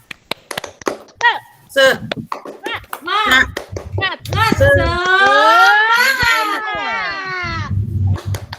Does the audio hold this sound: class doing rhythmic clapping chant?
yes